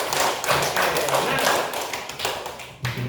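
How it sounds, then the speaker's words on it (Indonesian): A classroom full of Indonesian children claps in a quick, uneven burst, with a short spoken word near the start. "Tepuk tangan."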